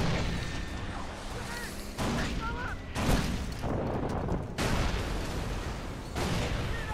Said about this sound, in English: Are you assholes up there hucking mortars at me?